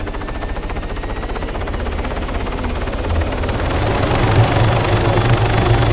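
Helicopter in the video game Arma 3, a steady loud rotor and engine drone that swells slightly toward the end, with no voices over it.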